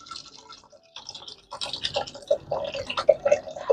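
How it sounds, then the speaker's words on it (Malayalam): Two glasses of water are poured into a pressure cooker holding sambar ingredients in a home kitchen, giving irregular splashing and trickling that grows busier and louder as it goes. "ഇതിലേക്ക് 2 ഗ്ലാസ് വെള്ളം ഒഴിച്ച്"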